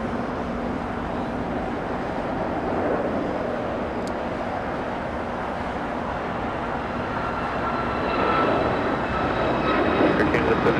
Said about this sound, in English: Dreamliner coming in.